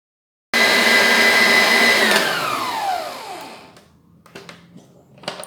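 An electric mixer beats a powdered-milk cream filling with a loud, steady whir, then winds down in falling pitch as it switches off, followed by faint clinks.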